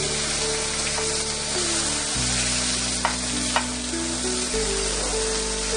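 Chicken pieces fry in a pan with a loud, steady sizzle and a few stirring clinks, close up, with no talking.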